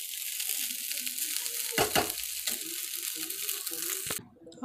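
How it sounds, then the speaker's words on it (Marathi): Tempered leftover rice (phodnicha bhaat, masala rice) stirred in a hot pan, a steady sizzling hiss with a few louder scraping strokes partway through, close and continuous before cutting off near the end. "हा बघा, मस्त असं मिक्स करून घ्यायचं।"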